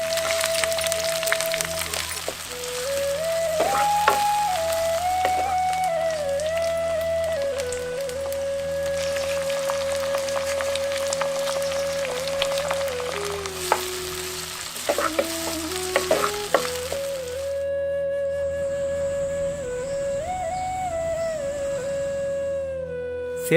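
Curry leaves and chopped shallots fry steadily in hot oil, a constant loud sizzle lasting throughout with occasional stirring scrapes and faint background tones, no voices.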